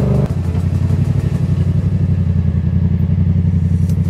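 A motorcycle engine idles close by, loud, with a fast, even low throb that stays steady throughout and has no voices over it.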